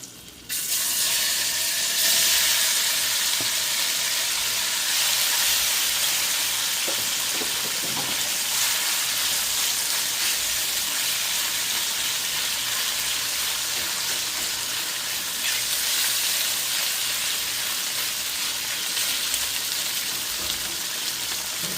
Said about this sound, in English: I'm going to add my shrimp